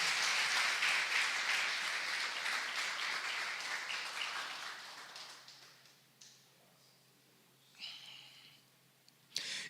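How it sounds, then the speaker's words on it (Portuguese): A church congregation claps in praise during a sermon, loud and dense at first, then thinning and fading over several seconds into near quiet, with a few faint stray sounds afterward. "As palmas glorificam ao Senhor"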